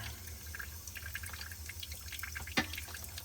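Water drips and trickles during a home water filter replacement, scattered soft drops over a steady low hum, with one sharper splash near the end.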